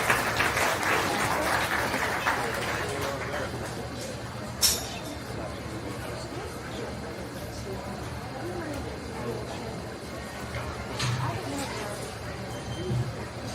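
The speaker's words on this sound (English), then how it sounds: "Let's give them another round of applause" Applause for the grand champions at the Page County Fair swine show, a scattered moderate round of clapping with a few louder claps, thinning over time amid faint crowd murmur.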